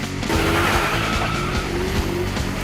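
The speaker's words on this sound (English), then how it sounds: "Rev up your engines!" A car engine revs hard while its tires squeal and skid, loud and close. The scream of rubber and engine noise holds continuously with no talking.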